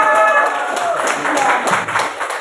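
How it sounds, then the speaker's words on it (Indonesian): Classmates at a junior high school in Wamena clap for a presenting group, a steady scatter of hands close by with voices mixed in over the applause. "Tepuk tangan bagi kelompok 6"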